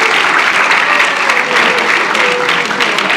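A lecture-hall audience applauds loudly and continuously, dense clapping from many hands filling the room without pause.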